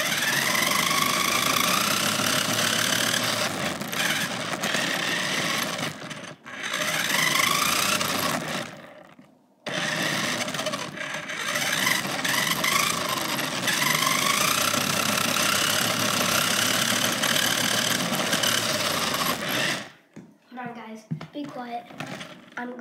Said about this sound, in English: And by the way, the RC car might be loud.